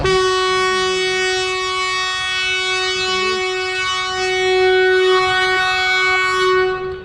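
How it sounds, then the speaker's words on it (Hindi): The Ganga Nagar Express pulls out of a station in Haryana with a loud, sustained horn blast held for several seconds over rumbling wheels and carriage noise, close and dominant. "ट्रेन खुल चुकी है।"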